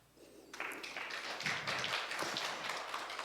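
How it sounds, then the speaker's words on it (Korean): Applause from attendees at a video media culture forum in Gimpo, Korea: a quiet start, then a sudden burst of many hands clapping that carries on as a fairly soft, steady patter. "이 박수 소리는 우리 함께하고 계신 관계자분들의 박수 소리니까요"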